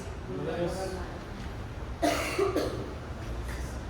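A few coughs burst out around the middle of a church sermon, a couple of sharp hacking coughs from the preacher close to the mic over low background noise.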